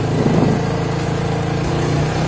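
A fuel-injected 2008 Yamaha Vixion motorcycle engine runs held steadily around 4000–5000 RPM, a loud, even, close-up drone with no talk.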